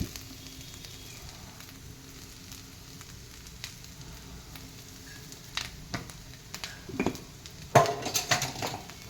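Coconut rice being fried in a pan with salt, a soft continuous sizzle underneath with occasional louder clinks and scrapes of a utensil against the pan toward the end.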